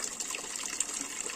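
Water runs from the drain tap of an Altek 24 solar collector, a steady gushing trickle heard close by and alone, with no voices.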